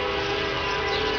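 An eastbound train passes in rural eastern Arkansas, a steady loud rumble with a sustained tonal hum, heard alone without voices.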